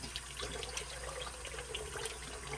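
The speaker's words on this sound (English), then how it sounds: "and wash it out properly, you drain the water out" Water runs steadily from a tap into a sink while a fish is rinsed and drained for fish soup, a continuous close splashing flow with no voices.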